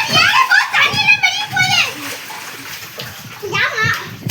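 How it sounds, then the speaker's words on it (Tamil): Children splash water while bathing, with bursts of sloshing and splatter mixed among excited kids' voices chattering and shouting close by. "ஏய் இந்த தண்ணியை அப்படியே மேலே தூக்கி அடிங்க."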